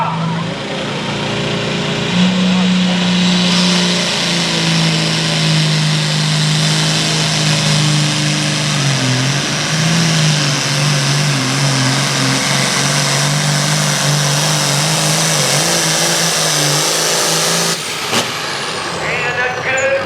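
The John Deere pulling tractor "Shell Shock" roars loud and sustained throughout a tractor pull in Alliance, Ohio, its engine droning and straining with shifting pitch, while an announcer talks over it.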